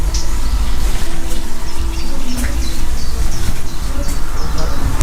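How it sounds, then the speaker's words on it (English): Birds chirp outdoors in quick, scattered calls over a loud, constant rumbling background noise. "Birds, okay."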